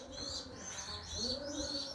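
A Pearl Eye racing pigeon coos softly and close by, a few low, rolling coos in a quiet loft with faint chirps above them.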